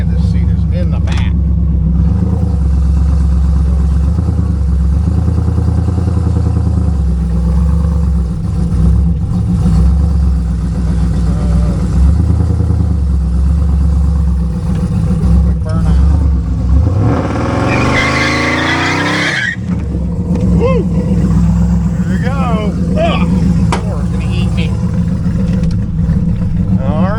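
2009 Dodge Challenger SRT-8 with its 6.1L engine, heard from inside while driving: a loud, steady low drone that rises in one strong revving surge partway through, with scattered clicks and brief talk.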